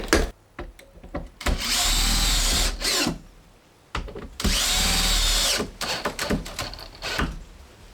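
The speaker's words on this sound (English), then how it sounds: "I'll get it held to the subfloor first, and then I can put some screws in to the joist sideways" A power drill drives screws into a floor joist through the subfloor in a small mobile home, with two loud sustained whirring bursts of about a second each, separated by clicks and knocks of handling.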